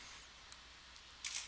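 A camera shutter set to 1/60th of a second fires once near the end as a brief, faint click against a very quiet background.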